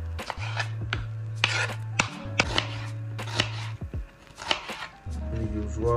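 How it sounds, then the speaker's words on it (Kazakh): Bell pepper being chopped with a knife on a cutting board in a home kitchen, a dozen crisp close knocks in an uneven rhythm over a low steady hum. "болгарскийді өстіп тураймыз"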